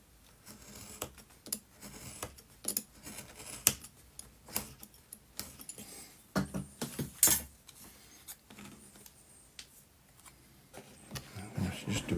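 Scissors snip around the edge of a model wall piece for a miniature French chateau build, giving repeated short crisp cuts spread through the stretch with some clicks and handling noise between them and no talking.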